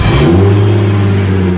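A Toyota Supra JZA80 engine running at a steady idle, a loud, close, continuous low hum with a brief brighter burst at the start.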